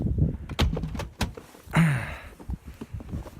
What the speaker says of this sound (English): as we walk out the front door